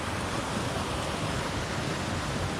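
Steady rushing water from a stream swollen by recent rain, a close, continuous broadband wash with no breaks and no voices.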